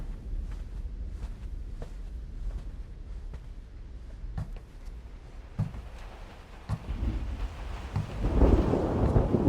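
Heavy rain pours steadily while thunder rumbles and cracks several times, building to a loud, close roll near the end.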